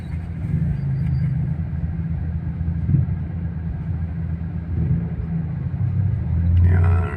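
Dense road traffic on a Philippine street during the morning rush, with jeepneys and cars: a steady low engine rumble and idling close by, continuous throughout with no clear voices.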